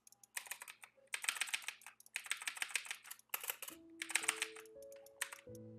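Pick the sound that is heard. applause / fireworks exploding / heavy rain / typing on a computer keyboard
typing on a computer keyboard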